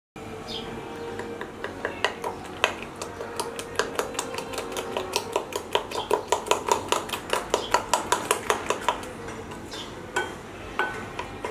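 Egg and sugar mixture whisked in a bowl for a coconut roll batter: a rapid run of sharp clinks and taps of a utensil against the bowl, speeding into a steady rhythmic beating, then slowing to scattered taps.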